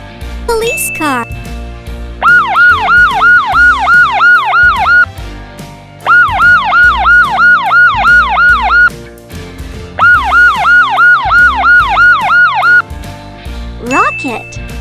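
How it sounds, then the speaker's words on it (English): Police car siren from a children's vehicle-sounds lesson, a loud wailing electronic siren in three long rising-and-falling bursts separated by short gaps, with brief chirps at the start and end. "Police car."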